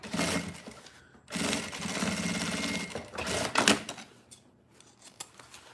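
A sewing machine stitches fabric for a flower-shaped zip pouch in short motor bursts, running loud and steady for several seconds between brief pauses, with no talking.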